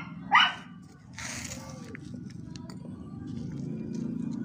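A dog gives a single sharp bark near the start, followed by a few faint yelps over a low, steady background hum. No one speaks.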